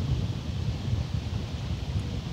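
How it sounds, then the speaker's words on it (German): Strong, steady wind roars at a cruise ship harbour, a constant broadband buffeting of the microphone with no clear gusts or breaks, close and fairly loud throughout. "denn es ist gerade doch sehr windig"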